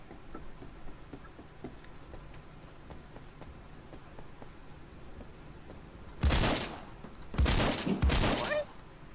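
RPK light machine gun fire on a rooftop in Phantom Forces: quiet ambience, then two loud, close bursts of automatic fire about a second apart, each lasting under a second.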